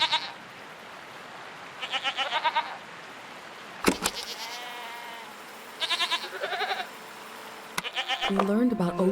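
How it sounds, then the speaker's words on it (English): Strange goat-like creatures bleating in the video game Season: A Letter to the Future, several wavering, nasal bleats in short bursts, some close and some farther off, with sharp clicks between them. "What are these strange goat-like creatures? Are they simply goats?"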